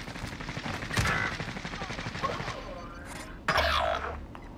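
Gunfire in the video game Warzone, a few bursts of shots under a dense game soundscape, with one loud impact-like burst near the end.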